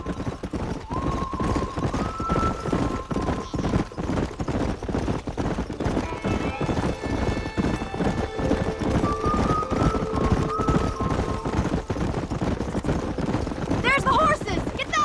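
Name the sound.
horses in video game Red Dead Redemption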